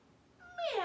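A person's voice imitates a cat's meow, a single rising then falling mew that swells from faint to clear within a second, heard alone.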